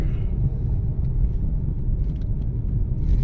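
A car drives slowly through a narrow lane, giving a close, continuous low engine rumble with steady road noise and a few faint higher clicks, no voices.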